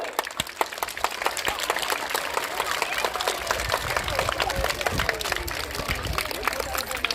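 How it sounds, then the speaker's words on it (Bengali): An audience at a costume dress-up event applauds with dense, continuous clapping that holds steady throughout, loud and close, with crowd murmur underneath. "সবাই একটু উৎসাহিত করুন হাততালি দিয়ে।"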